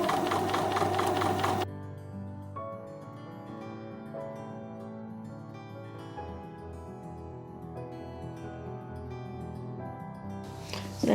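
A sewing machine stitches a quilt block, first a loud fast whirring run, then a quieter steady mechanical hum and ticking as fabric is guided along, ending with another brief loud burst.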